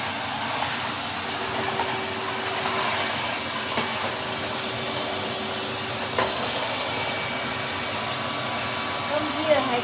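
A Henry vacuum cleaner runs upstairs in a house late at night, a steady airy whine and hum holding level for ten seconds with a few small bumps.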